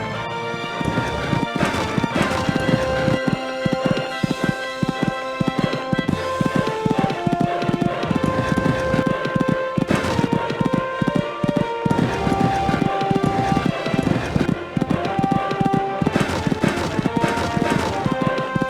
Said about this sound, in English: Cantering nicely through there.